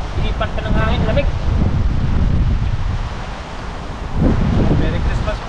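Wind gusting outdoors beside open water, a continuous buffeting rush over the microphone with a wash of surf-like noise that swells and eases, with faint background voices.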